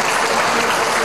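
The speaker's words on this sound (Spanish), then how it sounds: "Ya en la sala fue recibida entre aplausos." Dense, steady applause fills the assembly hall of Ecuador's National Assembly as the head of the electoral council is received, a close, continuous clapping crowd that holds at an even level for the whole moment.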